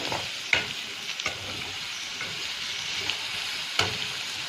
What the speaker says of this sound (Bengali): এখানে গোটা গরম মশলা ফোড়ন দিয়ে দিয়েছি